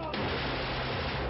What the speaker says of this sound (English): gunfire exploded from inside.